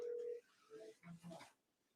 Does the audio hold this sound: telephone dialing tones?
yes